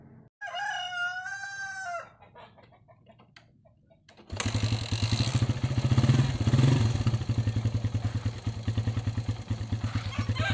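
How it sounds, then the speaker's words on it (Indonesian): A motorcycle engine starts up and settles into a loud, steady, rhythmic idle close by, after a rooster crows nearby and a short quiet pause. "Oke, motor sudah nyala"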